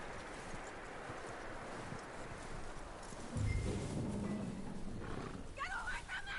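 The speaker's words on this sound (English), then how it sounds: "That looks like a decent horse. You should keep him. Get that horse hitched." Horse hooves clip-clop faintly in Red Dead Redemption 2, a soft steady walking rhythm under low ambient game sound, with a louder rumble and bright chirping cues joining partway through.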